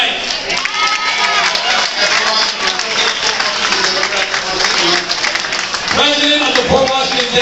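An audience at a congressional campaign kickoff claps and cheers, a continuous wash of crowd applause running beneath an amplified speaker's voice.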